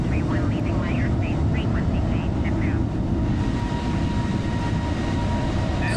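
Airbus A320 engines in Microsoft Flight Simulator 2020 during climb, a loud steady broadband roar under someone speaking, with faint chirping sounds early on.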